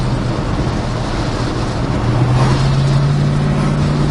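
A 1965 Pontiac GTO with Tri-power carburetion cruises on the road, its engine a steady low rumble with a droning tone that rises slightly midway, heard from inside the car without talk.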